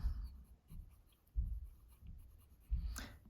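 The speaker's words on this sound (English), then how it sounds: "It's a medium nib, and it was tuned by Penroll." A Sailor fountain pen with a tuned medium nib writes on paper in quiet, soft strokes, three brief scratchy bursts at steady intervals, close and faint with no speech.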